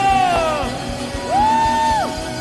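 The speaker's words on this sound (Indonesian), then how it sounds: "Sekali lagi beri tepuk tangan yang paling meriah bagi Tuhan kita." Congregation at an online church service cheering with loud rising whoops and yells, two long shouts standing out over a lively crowd.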